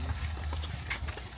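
Horse hooves clip-clopping on a street in Pampanga, a steady run of soft hoofbeats heard a little way off under general outdoor noise.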